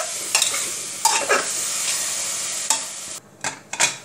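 Onions and crushed whole garam masala sizzle in a pan for an aloo soybean do pyaza, with a spoon stirring in quick scraping strokes over the close, bright frying hiss, which briefly drops near the end.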